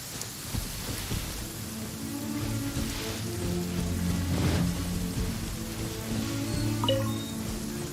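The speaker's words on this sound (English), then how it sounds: "Oh, I don't like the rain." Rain patters steadily in a Genshin Impact game scene, a soft continuous hiss of drops with faint distant rumbling and background music, quiet and even throughout.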